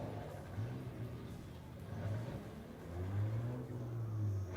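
A stock race car engine at a Motordrome Speedway crash-derby event keeps running under power, a mid-pitched rumble that swells and revs a few times at moderate distance with crowd and track noise around it.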